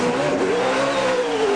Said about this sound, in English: He warms up the car